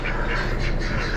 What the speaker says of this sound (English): Sounds like all drakes. Probably pekin or pekin cross